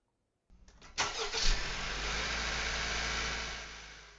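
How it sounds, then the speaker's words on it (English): A Honda CR-V engine cranks briefly and catches after a battery replacement, then settles into a steady, close idle with no talking over it. "let's find out if it starts my car"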